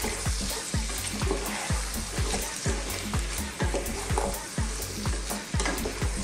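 Zucchini and tomatoes for a vegan Greek casserole stew are stirred in a hot pan, with loud, rhythmic utensil scrapes about twice a second over a constant close sizzle and no voices.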